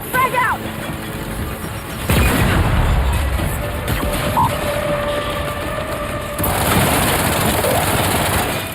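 Grenade explosion in a PC first-person shooter, a loud booming blast followed by rumbling noise and gunfire-like clatter, with game voices and ambient battle sounds around it.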